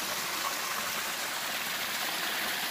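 Clear spring water flowing steadily in a small stone-covered basin, a continuous close trickling and babbling with no speech.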